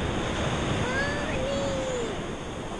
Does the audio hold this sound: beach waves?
yes